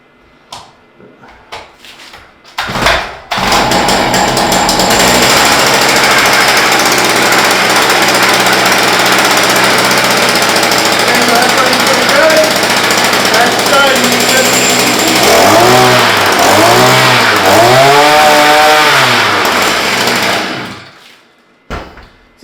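A gas engine on an ice fishing auger starts after a few short pulls, then runs loudly and steadily near by with a buzzy roar, revving up and down several times before cutting off.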